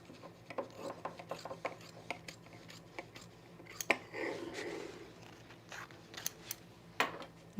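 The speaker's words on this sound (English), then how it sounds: "We're going to trim off the excess now." Scissors snipping excess fabric from the side seam allowance of a men's utility jacket, a run of quick, soft rasping cuts in close succession, near and fairly quiet, with no talking.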